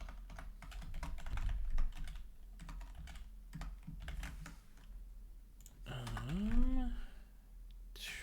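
Rapid, uneven tapping on a computer keyboard, close and fairly quiet, running in clustered bursts throughout, with a voice speaking briefly near the end.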